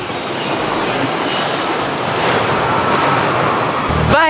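Sea waves break and wash continuously onto a beach, a loud steady roar of surf that swells slightly toward the end.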